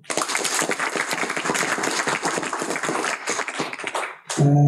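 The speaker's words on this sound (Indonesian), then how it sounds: "Tepuk tangan dulu." An audience at a religious prayer gathering and sermon clapping their hands, a brisk burst of many claps that fades near the end, then cut off by a sudden tonal sound.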